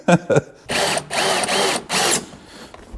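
A power drill drives screws through carpet holes in a classic Mustang: two short blips, then three longer whirring bursts with brief gaps between them, close and clear.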